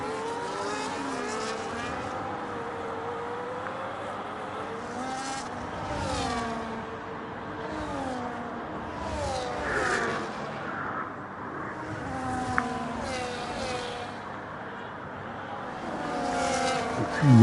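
Race car engines in a sim racing game at the Japan round, a pack of cars droning and whining steadily with shifting pitch, moderately loud throughout with no talk over it.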